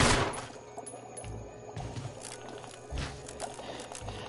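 Gunshots fired at a bee in a video game, several bursts of loud cracks spread across a few seconds, sounding like rapid game gunfire.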